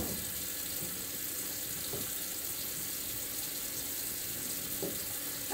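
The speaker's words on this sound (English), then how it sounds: "I'm going to run the water for just a moment so it gets to that lukewarm temperature." A kitchen tap runs steadily as water warms toward lukewarm for a pretzel dough demonstration, a faint, even hiss with no talking.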